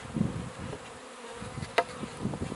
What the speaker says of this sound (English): see if I still have bees in here, which I do